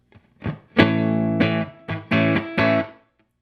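An electric guitar with its Ibanez TS9 Tube Screamer reissue pedal switched off rings out in a clean tone: several distinct strummed chords, each sustained briefly before the next, ending in quiet.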